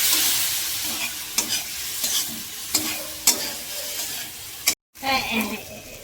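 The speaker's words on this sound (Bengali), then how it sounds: "একটু জল দিয়ে দিয়ে কষাবো।" Spices frying in a pan with whole green chilies and splashes of water for a chana dal dish, a loud, dense sizzle broken by repeated spoon scrapes of stirring, with one brief dropout near the end before the hiss resumes, and no voices.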